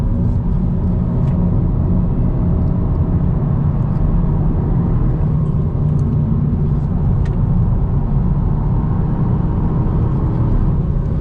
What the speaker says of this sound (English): right now you hear a good amount of tire noise because I'm really hustling this car and making the tires howl